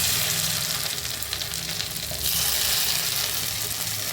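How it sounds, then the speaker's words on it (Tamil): Chopped onions drop into hot oil already crackling with fennel seeds, giving a steady, loud, close sizzle and frying hiss that swells slightly midway with no voices. "நம்ம கட் பண்ணி வச்சுருக்க வெங்காயத்தை சேர்த்துக்குவோம்."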